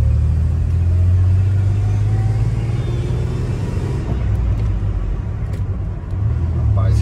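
Ford F250 V6 pickup truck driving along a road, a steady low engine rumble and road noise filling the whole stretch, heard from inside the cab with occasional faint talk.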